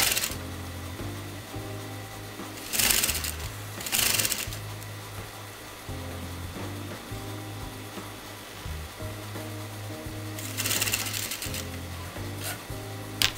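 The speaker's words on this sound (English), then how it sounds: "I'm going to sew that together" A sewing machine fitted with a zipper foot stitches a zip onto fabric, running in short motor bursts with rapid needle clatter and pauses between runs, close and clear with no talking.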